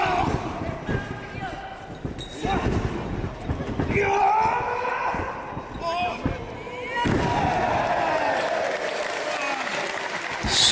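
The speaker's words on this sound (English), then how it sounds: "Scoop slam" At a professional wrestling event, a wrestler's scoop slam lands with heavy thuds on the ring amid a roaring crowd, with several sharp impacts under steady cheering and a commentator talking.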